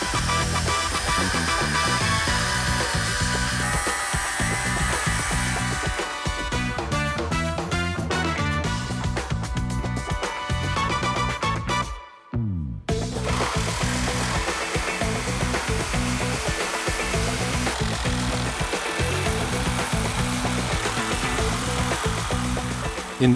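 A special window saw cuts through plaster along an old window frame during a window replacement, a loud, continuous buzzing and grinding that runs steadily for the whole stretch, with one brief break near the middle.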